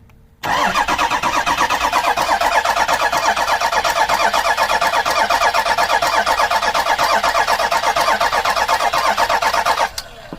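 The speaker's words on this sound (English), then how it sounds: "We'll try this again, see if it wants to start" A Ford Super Duty diesel truck engine cranks over and over in a steady rhythmic chug for about nine seconds without catching, then the starter stops.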